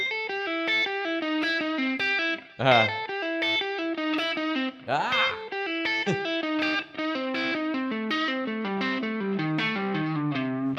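A distorted electric guitar with chorus plays a descending blues scale run that includes the flat fifth, quick picked notes stepping downward with a couple of bent or slid notes, loud and solo throughout.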